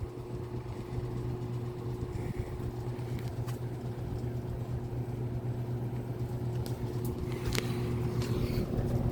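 A 1982 Lakewood P-222 electric fan runs on low speed with a steady, quiet motor hum and soft airflow, plus a few faint rattles and ticks.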